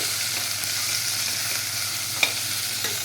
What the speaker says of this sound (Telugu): ఆనియన్స్ మగ్గుతున్నాయండి